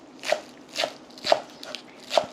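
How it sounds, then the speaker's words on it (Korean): Green onions are chopped with a knife on a cutting board: four crisp, evenly spaced close-up chops with a couple of fainter taps between them and no talk. "파는 그냥 총총총총 썰어 주시면 돼요."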